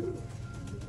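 A single short, low coo from an old line pigeon at a Bangalore pigeon sale, close and brief, over a steady low background hum.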